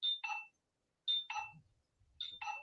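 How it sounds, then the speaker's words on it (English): A telephone rings in three evenly spaced electronic two-tone bursts, bright and clear, with a faint low rumble between rings and no talk. "We got a phone call."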